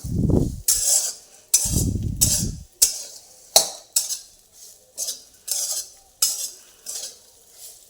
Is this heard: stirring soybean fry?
yes